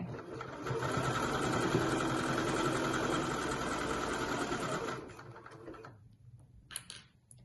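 A sewing machine stitches fabric in a fast, continuous mechanical whir for about five seconds, then stops, leaving faint clicks and handling noises.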